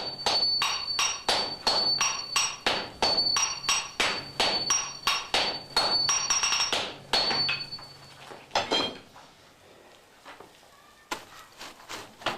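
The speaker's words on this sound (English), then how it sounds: "his disciples wielding the large hammers how hard and fast they should hit the steel." Large hammers strike steel in rapid rhythmic succession while a katana blade is forged, sharp ringing metallic blows repeating steadily and close, then thinning to a few scattered strikes after a pause.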